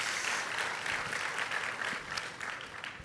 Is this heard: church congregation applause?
yes